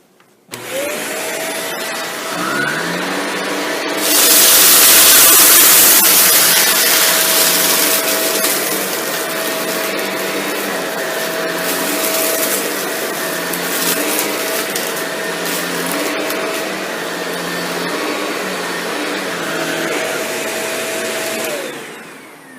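A Shark NV682 upright vacuum running steadily and loudly, its motor whine constant while it sucks up beans, lentils, dust and pet hair, with a rattling surge of debris early on.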